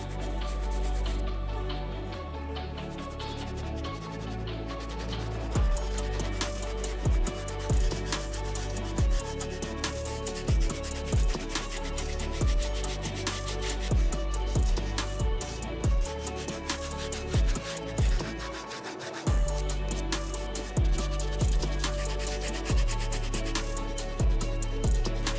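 A brush scrubs the white leather of Air Jordan 1 sneakers in a steady run of close, rhythmic bristly rubbing strokes, with short pauses and repeated scratchy passes over about 25 seconds.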